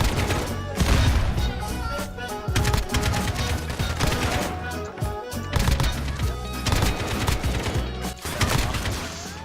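Rapid bursts of AK rifle fire in a hardcore match of Call of Duty Modern Warfare, loud and dense, with repeated volleys and sharp cracks running through the whole stretch amid game noise.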